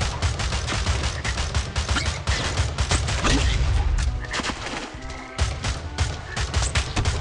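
Shotgun fire in the Swamp Attack 2 mobile game: a dense, relentless volley of loud blasts rattling off in quick succession with hardly a pause, punctuated by mechanical clacks.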